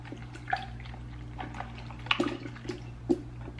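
A wet rag soaked with water and hair conditioner handled in a sink, with scattered drips, splashes and wet squelches spaced irregularly, close up and with no talk.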